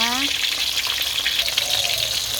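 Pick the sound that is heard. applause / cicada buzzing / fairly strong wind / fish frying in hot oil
fish frying in hot oil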